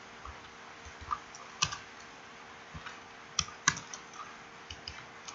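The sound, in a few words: typing code on a computer keyboard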